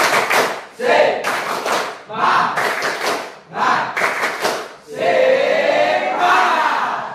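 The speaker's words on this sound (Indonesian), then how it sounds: "Tepuk semangat." A classroom group performs the Indonesian 'tepuk semangat' clapping chant, loud bursts of rhythmic claps and shouted voices in several short phrases separated by brief pauses.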